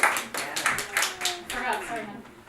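An audience claps for a volunteer in a quick, rhythmic patter of hand claps, with voices talking underneath.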